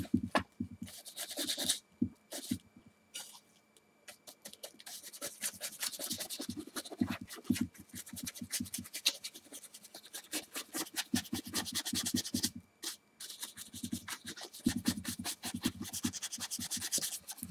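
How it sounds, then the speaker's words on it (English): Weathering dust being scrubbed into the corners of a painted model helmet, a close, continuous scratchy brushing in rapid back-and-forth strokes with a few brief pauses. "Really scrub it into those corners."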